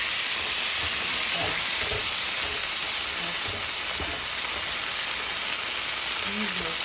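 Two bunches of asparagus sizzle in a pan with butter and garlic, a loud continuous hiss and crackle with faint clinks and low bumps beneath.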